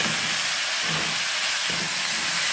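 Freshly fried orzo is sautéed in a pot, giving a loud continuous steam hiss close up, with faint low stirring scrapes pulsing underneath.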